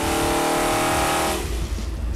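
A Mondello-built 455 Oldsmobile big-block V8 with a Holley 870 Street Avenger carburetor roars at high revs on a dyno, loud and sustained, then drops off sharply after a little over a second.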